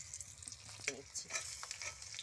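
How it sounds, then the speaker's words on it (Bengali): Dhoka lentil cakes frying in hot oil, a soft steady sizzle with scattered spattering pops and a brief scrape of a utensil, fairly quiet and close. "একইভাবে এইগুলোকেও ভেজে নিচ্ছি।"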